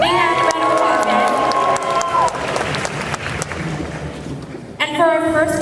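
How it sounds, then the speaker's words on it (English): A concert-hall audience at the AniRevo Idol 2019 singing contest claps and cheers for the judges, a loud, dense wash of applause with a few voices calling out over it. "Big hand round of applause, guys."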